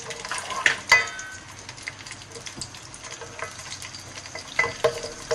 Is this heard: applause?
no